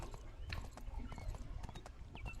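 Horse hooves clip-clop in a steady, quick rhythm in a jungle-themed video game, with a faint whinny, close and clear with no talk over them.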